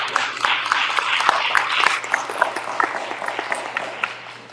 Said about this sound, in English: Please give Robin a round of applause.